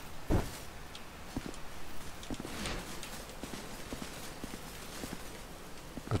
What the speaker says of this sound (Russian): Это мой герой так топчется громко